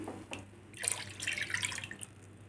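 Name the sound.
coconut milk being poured into beef curry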